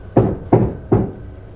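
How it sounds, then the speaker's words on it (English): Three firm knocks, evenly spaced about a third of a second apart, thud close by on what seems a door or wooden surface in a quiet room, with no voices. "Then I can hear the knocking again."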